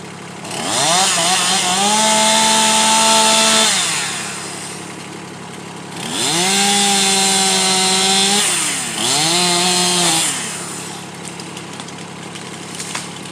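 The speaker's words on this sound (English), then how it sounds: "we discovered this dead cherry tree, so we're going to cut that down." Chainsaw cutting down a dead cherry tree on a homestead, the engine revving loud and close in two long sustained bursts with a brief third, dropping back toward idle between cuts; no talk.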